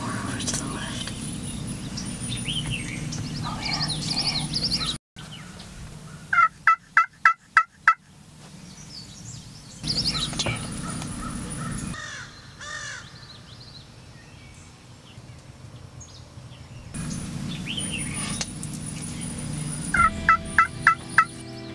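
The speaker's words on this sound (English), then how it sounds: "Wait till you see the beard on this gobbler." Wild turkey gobbler on a spring hunt gobbles in sharp rattling bursts, two clear volleys at a moderate distance, with crows cawing and faint whispering in the background.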